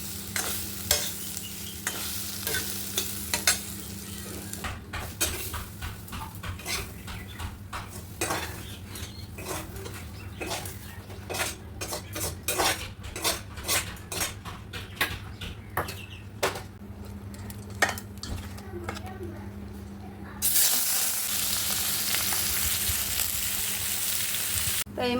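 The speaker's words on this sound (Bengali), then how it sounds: "তো এই মাছগুলো ভেজে তুলে নিলাম" Fish fries in a pan with a continuous hiss, broken by frequent scraping and clinking of a spatula against the pan. The sizzle swells louder near the end.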